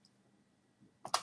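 A computer keyboard gives a couple of quick, close key clicks ending in a firmer press, after a near-silent stretch of faint room hum.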